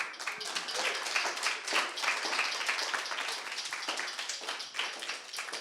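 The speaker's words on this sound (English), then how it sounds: "Big round of applause." A room of graduates and guests at a coding bootcamp demo day in Melbourne applauds warmly, with dense, steady clapping that stays fairly soft throughout.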